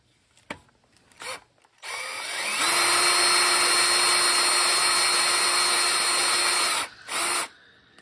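A power drill spins up and whines steadily for several seconds, close and loud, then stops, followed by a short second burst.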